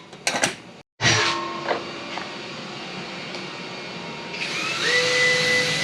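Angle grinder with a flap disc sanding aluminium angles to key them for bonding solar panels to a van roof; a short burst, a brief stop, then a sustained abrasive whir that rises toward the end.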